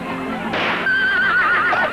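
A horse whinnies once at a festive return home with a trophy cup, a loud, close, wavering neigh rising over a soft background and trailing off in shaky pulses.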